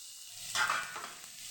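Raw mango pieces drop into hot oil tempered with cumin, asafoetida and turmeric, giving a sudden burst of close sizzling that settles into a softer hiss.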